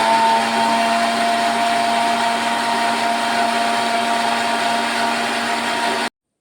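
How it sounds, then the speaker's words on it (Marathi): A kitchen mixer churns curd and lukewarm water to make butter, a loud, steady whirring drone with a constant motor hum that runs unbroken for about six seconds, then cuts off abruptly. "मिक्सर पुन्हा चालू करूया"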